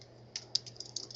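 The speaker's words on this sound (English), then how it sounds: "you're going to type in the title of the research paper" Typing on a computer keyboard, a quick uneven run of soft clicky keystrokes, close and fairly quiet over a low steady hum, with no talking.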